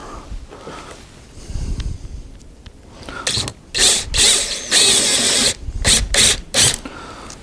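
A power drill whines in several short bursts, starting and stopping with brief pauses between, loud and close, after a stretch of quieter handling noise, drilling holes in a part for an MG MGA hood latch pin.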